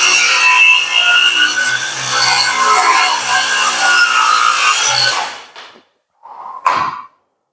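A Tankmor TMR 802 cordless 5-inch mini circular saw cuts through wood with a loud, steady buzzing rasp for about five seconds, then the blade winds down and gives a short second burst.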